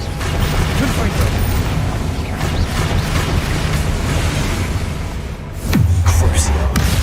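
In a Hogwarts Legacy battle on PS5, the Confringo fire-blast spell goes off with a deep booming burst near the end, following a long stretch of dense, steady combat rumble and clatter.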